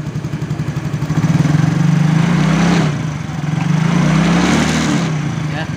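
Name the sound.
Yamaha X-Ride motorcycle engine revving with rattling noise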